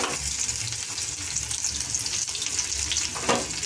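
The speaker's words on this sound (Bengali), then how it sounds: "তরকাটা বানানোর জন্য তেলের মধ্যে দিয়ে দিচ্ছি তেজপাতা" Bay leaf and chopped onion frying in hot oil for a Bengali curry, a steady close hiss and crackle of sizzling that holds evenly throughout, with no voices.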